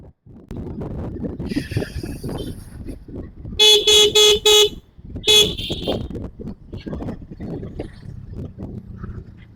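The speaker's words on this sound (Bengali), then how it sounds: "অনেক গাড়ি আসছে অনেক গাড়ি ভাইরা আসছে" Cars passing on a broad road at Purbachal, with a run of loud repeated horn blasts and a second honk shortly after, close by, while traffic rumbles and people talk throughout.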